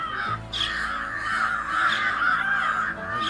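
Crows in an Indian village caw loudly and close by, their harsh calls overlapping almost continuously, with no talk.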